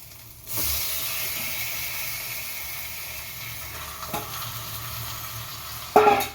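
Washed chicken pieces sizzle in hot oil for a chicken curry, a steady frying hiss with occasional stirring scrapes and a louder clatter near the end.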